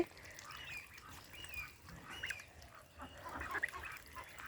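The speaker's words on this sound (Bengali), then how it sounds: "এখানে চিন চিন হাঁস দেশি হাঁস রাজহাঁস সবই আছে" A mixed flock of young geese, Chinese ducks and local ducks, about forty days old, honk and quack repeatedly at close range, with overlapping calls running steadily throughout and no talking.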